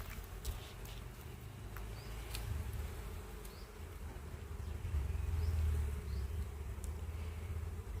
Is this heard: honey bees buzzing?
yes